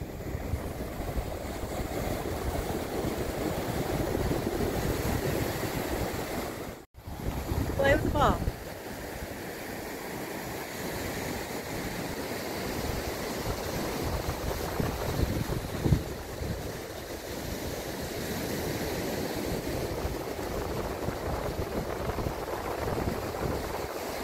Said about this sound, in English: We're on the beach. Topsail Beach.